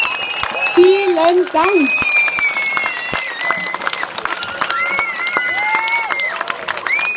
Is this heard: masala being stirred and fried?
no